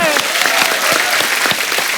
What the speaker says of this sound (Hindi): इस बात पे भी तालियां बनती हैं।